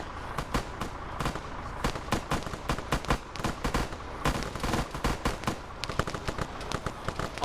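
Rapid full-auto gunfire in an Arma Zeus-run World War Z scenario, a steady stream of sharp cracking shots, loud and continuous with slight variations in rhythm.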